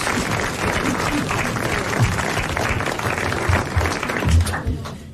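A French television studio audience applauds steadily for about five seconds, a dense, continuous wash of clapping hands that fades out at the very end.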